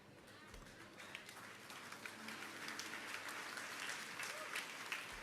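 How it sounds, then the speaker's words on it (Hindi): Women in a church congregation clap together during a sermon, a dense, steady patter of many hands filling the room, with faint voices mixed underneath. "सबसे पहले तालियां बहनों ने बजाई"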